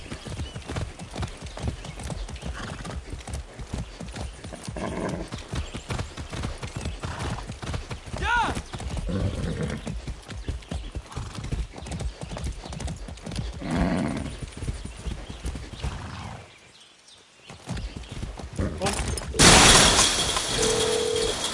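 Horse hooves clip-clop steadily on the ground in the Far Cry 6 video game, a moderately loud rhythmic patter under in-game talk, broken by a short quiet gap and a sharp burst near the end.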